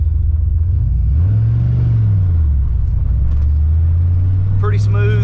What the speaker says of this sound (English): This car has a very touchy throttle, so that's why it revs up like that every time I take off.